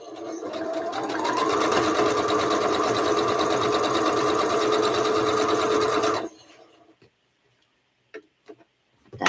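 Sewing machine stitching a quilt seam, a close, steady whirring hum with rapid needle ticking that runs for about six seconds, then stops, leaving a few faint clicks and handling sounds.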